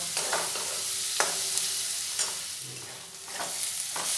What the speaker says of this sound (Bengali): দিয়ে আরও কিছুক্ষণ পেঁয়াজগুলো ভেজে নেব